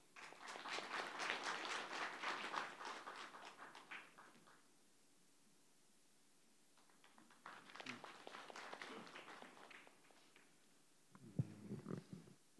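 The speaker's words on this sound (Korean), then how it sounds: "조광 교수님, 큰 박수로 맞아주십시오." Two separate bursts of audience applause at an academic symposium welcoming a speaker, crisp clapping that rises, fades to quiet, then swells again, with a brief low voice near the end.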